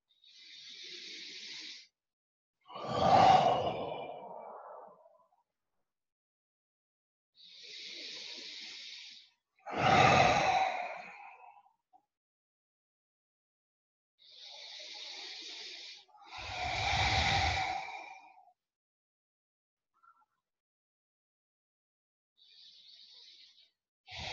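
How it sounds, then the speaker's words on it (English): Slow, deep breathing during a guided Reiki meditation: three long airy inhale-exhale cycles, each a soft hiss followed by a fuller rushing breath, close to the microphone and separated by quiet pauses. "Please take a few deeper than normal breaths"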